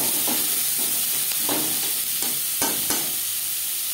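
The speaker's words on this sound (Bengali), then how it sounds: "লঙ্কার সাথে পেঁয়াজ বেশ ভালো করে মিক্স করে দেব।" Onions and green chillies are stirred in a little hot oil, a steady sizzle broken by several sharp spatula scrapes and knocks against the pan, close and without speech.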